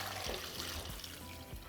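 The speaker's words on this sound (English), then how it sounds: "So add them to a pot. Cover them with water." Water running from a tap into a pot of tomatillos, a steady rushing splash with low gurgling thumps as the pot fills, close and continuous without any talk.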